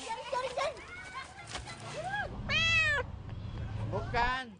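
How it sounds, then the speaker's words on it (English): Stray cats and kittens meow repeatedly, several rising and falling cries close by, over a steady low background hum. "People just come here and dump tiny kittens, and I take care of them and feed them."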